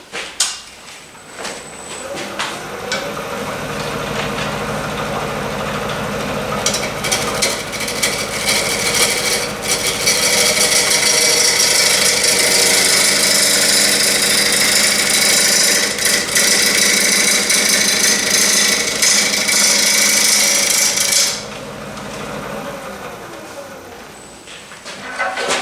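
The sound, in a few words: lathe turning a natural edge bowl from a limb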